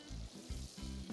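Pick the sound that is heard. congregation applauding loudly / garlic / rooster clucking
garlic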